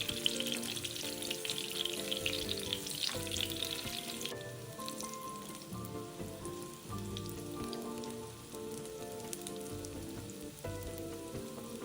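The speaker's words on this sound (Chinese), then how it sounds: "锅内倒入食用油，油热后将芋头卷一片一片放入，用半煎半油炸的方法煎炸至两面金黄" Taro rolls wrapped in crisp beancurd skin shallow-frying in hot cooking oil, a steady dense sizzle and crackle running throughout with occasional louder pops, close and alone with no voices.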